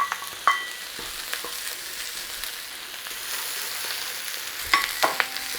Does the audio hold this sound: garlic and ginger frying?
yes